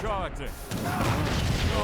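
Cannon artillery fire in the strategy game Age of Empires III, a sudden boom and rolling crash following a voice, which continues over the blast.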